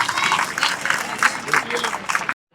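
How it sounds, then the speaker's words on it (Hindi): Applause from an audience at a school Gita Jayanti celebration in Hansi, a steady burst of clapping lasting about two seconds before cutting off abruptly, with voices mixed in. "विद्यालय परिवार की तरफ से जोरदार तालियों से हार्दिक अभिनंदन करते हैं"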